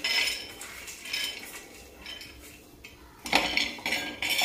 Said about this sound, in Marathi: तर चला आता हे शेंगदाणे मी आता एवढे भाजायला टाकते।